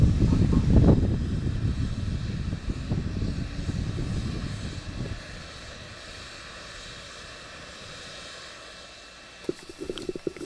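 A SpaceX Falcon 9 first stage engine roar rumbles loudly and steadily at first, then gradually thins and fades, with a few sharp crackles near the end.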